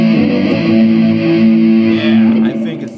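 Heavily distorted metal guitar tone through a Zoom G3Xn multi-effects patch with drive, limiter, speaker simulation and detune, a loud sustained chord ringing steadily for about two and a half seconds before easing off.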